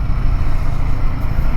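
A Royal Enfield Himalayan 450 motorcycle accelerates with a loud, steady, deep engine roar heard close up, with heavy wind and rumble and no talking.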